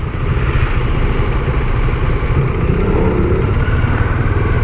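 A 2018 Bajaj Dominar motorcycle in Canyon Red rumbles steadily at low speed while filtering through traffic, its engine drone continuous and close, mixed with surrounding road noise and no pauses.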